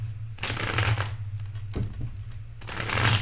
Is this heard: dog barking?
no